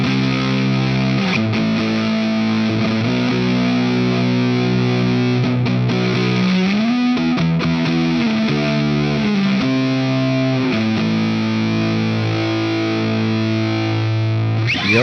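Distorted electric guitar from a GP-50 multi-effects unit patch, playing a loud, saturated riff of held chords and shifting notes for about fifteen seconds, steady and upfront, with no voices.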